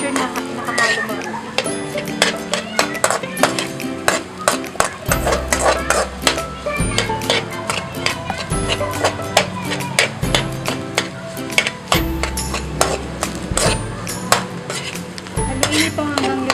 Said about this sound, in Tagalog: Haluin ito hanggang maluto yung bawang.